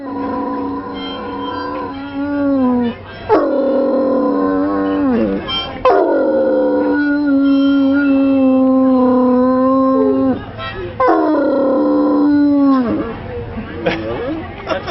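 Dogs at a Bark in the Park charity event howl loudly in long, wavering, repeated howls with pauses between them, and people talk nearby.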